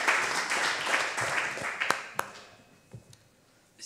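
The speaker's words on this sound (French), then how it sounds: "mérite, je pense, encore de nouveaux applaudissements pour notre premier adjoint" Applause at a French municipal council meeting in Cavalaire, a burst of room-filling clapping that thins out to a few scattered claps and then dies away.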